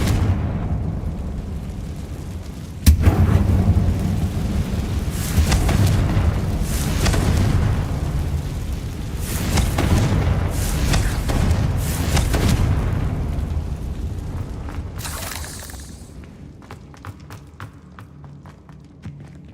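A Confringo fire spell in Hogwarts Legacy bursts with a sudden loud boom, then a long rumbling, roaring blast that swells and rolls for several seconds before fading into scattered crackles and debris.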